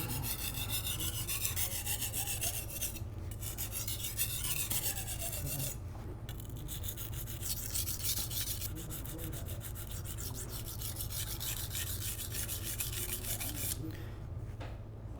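Kitchen knife ground on a rough whetstone to repair a chip and set the bevel, a continuous faint rasping scrape with repeated strokes throughout, quiet and close.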